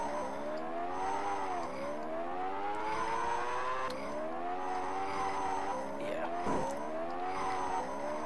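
Racing car engines from the Amiga game Super Skidmarks whine in steady, repeating swells that climb and drop over and over, with occasional skid-like scrapes, loud and continuous.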